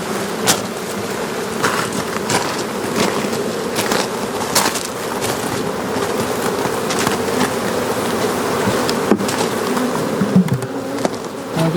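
Honeybees buzz steadily around hive frames holding bees and honey, a close, continuous droning swarm with scattered brief knocks and clicks of the frames being handled.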